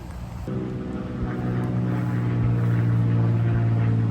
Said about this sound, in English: you're also going to hear some plane sounds too because we're not far from Charlotte Douglas Airport as Keiti knocks down the first birdie of